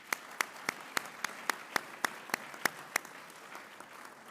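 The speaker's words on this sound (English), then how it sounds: "I'm going to ask you for one more round of applause for Rocky Mountain Blue Sky Legacy Award winners" Sparse, rhythmic clapping for business award winners at a ceremony, about a dozen evenly spaced loud claps over a soft crowd background that fade out toward the end.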